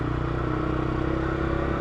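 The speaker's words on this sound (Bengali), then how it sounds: "ও ইঞ্জিনের আওয়াজ" A motorcycle engine runs at a steady idle close by just after an engine oil change, a continuous low throbbing chug with a faint mechanical clatter and a slight vibration, no talk over it.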